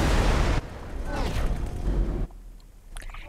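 A deep rumbling explosion in the space game X4: Foundations, a loud boom that rolls on and then drops off abruptly into quieter rumble.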